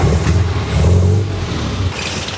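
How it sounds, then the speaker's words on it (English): A car engine is running during an ignition timing check, a loud low rumble with uneven revving pulses that drops back toward idle near the end. "So let me start the engine"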